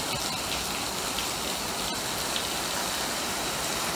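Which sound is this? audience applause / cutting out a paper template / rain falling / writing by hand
rain falling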